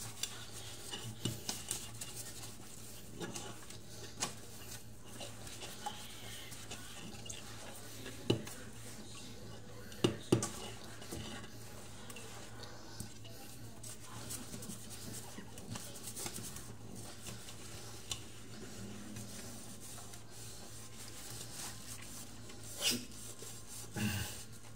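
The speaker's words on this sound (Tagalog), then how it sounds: "Paginugasan na natin yung kaldero." Cooking pot being washed and scrubbed, continuous rough scraping and rubbing strokes with occasional sharp clanks of metal, close and steady, with faint background noise and no clear talking.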